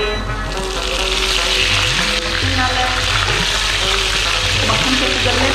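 Butter melts and browns in a pan for dal makhni in a home Pakistani kitchen, giving a steady broadband sizzle with bubbling throughout, and some low clinks and pitched background tones mixed in.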